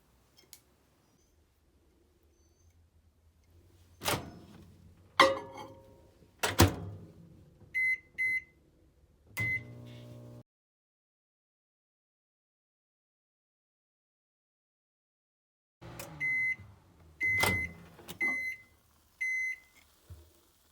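A microwave oven heating a mug cake: bursts of electronic beeps and clicks from the keypad and door, a quiet stretch in the middle, then another run of beeps at the end, close and clear with no talking.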